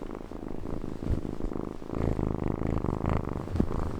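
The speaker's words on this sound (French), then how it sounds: "Les ronrons de chaton," A kitten purrs close up, a soft rhythmic rumbling that rises and falls with each breath, steady and alone without any talking.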